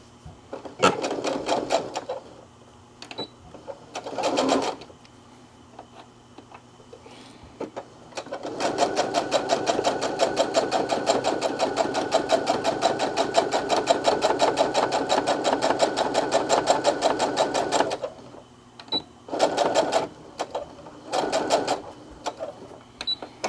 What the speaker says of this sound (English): sew along here. I'm going to back stitch at the beginning and the end.